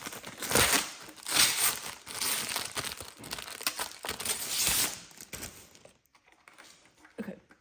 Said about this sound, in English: go ahead and take this one out of its packaging here